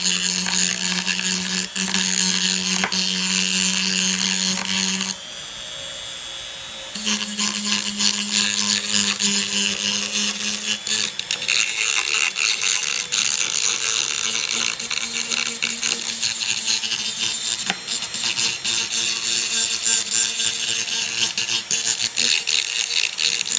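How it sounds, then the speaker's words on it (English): Dremel rotary tool with a sanding bit used on a crystal radio coil, a loud continuous high whine with a short pause partway, then running again, with scattered clicks and scraping. "But I'll turn the Dremel tool on."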